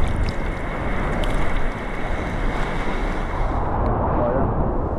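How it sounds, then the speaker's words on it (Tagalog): Rough sea waves wash and churn around a small fishing boat out on the water, a loud, constant roar of surf mixed with wind buffeting the microphone. "grabe yung alon"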